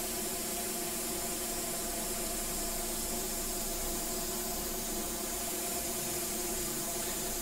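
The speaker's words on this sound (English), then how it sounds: "spray some air on that, you know, without pulling back" An airbrush sprays paint onto a portrait, making a steady, unbroken hiss of air that holds at an even level with no talk.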